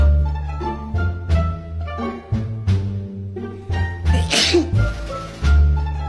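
A single sneeze bursts out partway through, short and sharp over a busy, tonal musical background.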